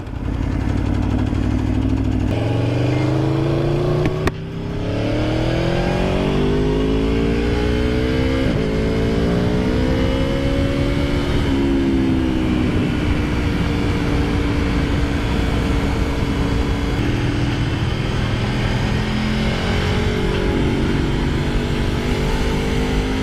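A 2015 Aprilia Tuono V4R 1000 APRC motorcycle is ridden, its V4 engine loud and close as it revs up through rising gear pulls, drops briefly on a shift, then climbs and settles again, with wind roar over a long continuous run.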